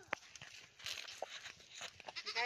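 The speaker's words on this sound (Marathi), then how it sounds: "आम्ही शेळ्या बघायला आलो." Goats of different sizes bleat on a farm with banana trees, a few short, close calls standing out over light outdoor background noise.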